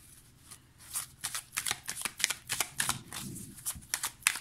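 Tarot cards shuffled for a reading, a run of crisp riffling and flicking bursts repeating steadily at close range, with no one talking.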